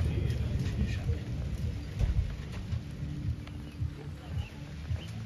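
Steady rain pouring outdoors, a dense continuous hiss of drops with a low rumbling underneath, fairly even in loudness throughout.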